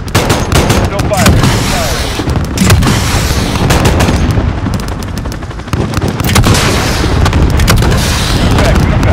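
Call of Duty Modern Warfare 2019 combat with aircraft gun fire. Dense, loud rapid bursts of cannon fire and booming explosions go on without a break, with radio chatter mixed under the noise.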